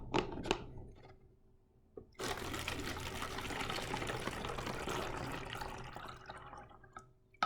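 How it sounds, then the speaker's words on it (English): Liquid is poured through a funnel in a home science demonstration, a few faint drips first, then a steady continuous pouring rush that slowly tapers off. "I'm going to use a funnel again, like we did last week, to pour it in"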